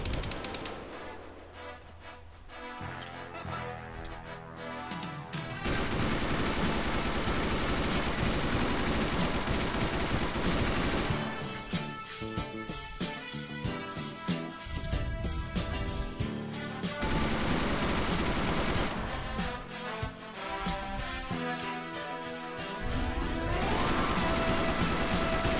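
Dense automatic gunfire from the video game Arma 3, long sustained bursts of rapid shots with brief pauses between volleys, loud and close, the firing almost continuous for most of the span.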